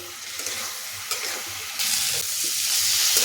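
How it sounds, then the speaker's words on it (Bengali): Dry spices cooked down with a splash of water in a pan give a steady wet sizzle with scraping stirs, growing louder and more hissing partway through, with no talking. "সামান্য একটু জল দিয়ে মশলাটাকে খুব ভালোভাবে কষিয়ে নেব"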